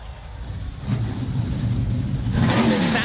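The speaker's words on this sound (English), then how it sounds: "32 NASCAR Craftsman trucks come to life on the pit lane." A field of 32 NASCAR Craftsman trucks fires up on pit lane, engines starting and revving in a loud, building roar with crowd noise behind, swelling further near the end.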